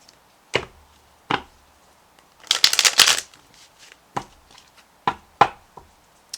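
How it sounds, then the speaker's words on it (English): Tarot cards being shuffled by hand, close and crisp: scattered taps and knocks of the deck, then a dense riffling burst, followed by more squaring taps. "I want to give these cards a really good shuffle."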